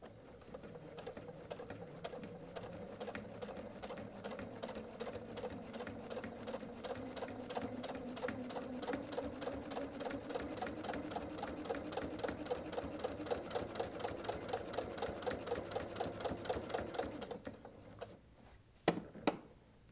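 Sewing machine quilting a dark fuchsia border on an all-border quilt, running in a steady rapid stitching rhythm for most of the stretch, then stopping with a few sharp clicks and knocks near the end.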